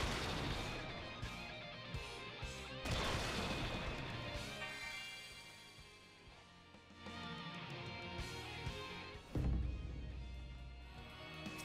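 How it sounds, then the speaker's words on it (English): Booming explosions and crashing bursts fire in quick succession over layered game music during the Blue Mage Masked Carnival challenge in Final Fantasy XIV: Shadowbringers, with loud impacts near the start and a heavy blast near the end. "Hide behind the walls to dodge these explosions."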